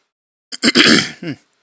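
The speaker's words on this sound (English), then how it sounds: "clearing my throat." Someone clears their throat up close: a short catch, then a rough, gravelly rasp and a final smaller grunt-like push.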